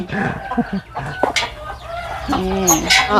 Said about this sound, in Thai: ไก่ตีค่ะพี่น้อง ไก่ตี ไก่ตี มีแต่ตัวสวย ๆ